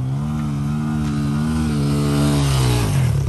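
A Kawasaki KLX140 dirt bike engine revs hard nearby, a loud, buzzy, sustained drone whose pitch holds high and then dips and rises again, with no talking.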